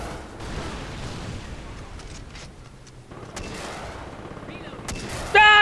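Shots from an inaccurate gun in Far Cry 3 ring out over a continuous rumbling game soundscape, with a louder burst near the end and faint tonal game effects.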